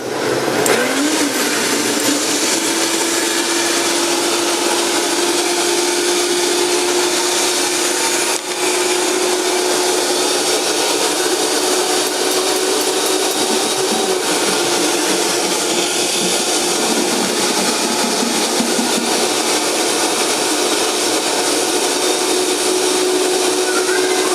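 A Vitamix blender runs continuously at high speed with a loud, steady whirring drone and a sustained motor whine, close by, with no speech over it, while almond pancake batter is mixed.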